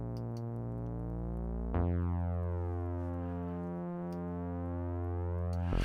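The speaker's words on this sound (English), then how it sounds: "So it stretches it out in the left and right, and it makes the bass sound wider" A bass guitar with a stereo widening effect switched on plays sustained, smooth low notes with a steady, even tone, changing pitch once partway through, alone without talk.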